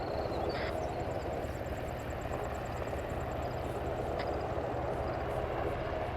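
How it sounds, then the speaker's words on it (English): Military helicopters carrying reinforcements and resupply approach in the combat game ArmA 3 with a steady, fairly loud rotor drone over a low engine rumble, joined by a few brief sharp sounds. "We got reinforcements and resupply coming in on those helos."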